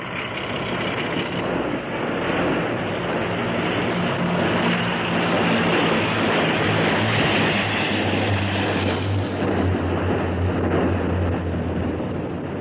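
Boat engines drone steadily at close range as a vessel keeps speed and runs past, with a continuous low rumble and broadband wash that never slackens.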